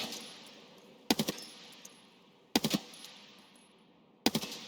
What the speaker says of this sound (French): je tire à côté du mec